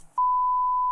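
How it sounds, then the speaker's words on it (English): A smoke detector sounds its low-battery alert: one sustained, steady electronic beep that starts abruptly after a moment of faint background noise and holds at a constant pitch until the end, loud and close. "This beeping noise was actually just the low alarm? battery sound from the smoke detectors in the Turpin's home."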